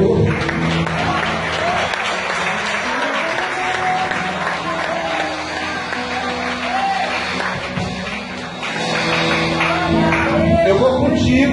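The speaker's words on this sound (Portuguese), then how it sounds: "Aplauda o Senhor." Church congregation applauding during a sermon, a steady, loud wash of clapping with crowd voices and some shouts mixed in throughout.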